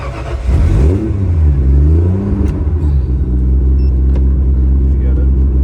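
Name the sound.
RB30-engined car revving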